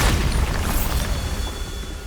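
A Bombarda spell explodes in Hogwarts Legacy, a loud deep boom that rolls into a sustained low rumble, with no pause or gap across the whole moment.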